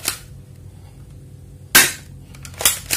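Shots from a D'cobra M250 spring airsoft gun firing 6 mm 0.2 g BBs through a chronograph: two sharp, close snapping cracks, the second followed by a quick echoing rattle, over quiet room noise.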